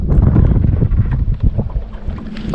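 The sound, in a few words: wind blowing over a lake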